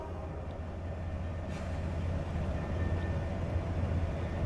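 An EJ&E SD38-2 diesel locomotive rumbles low and steady as it moves slowly during local switching work in Waterloo, Iowa, heard from a moderate distance with faint rail noise.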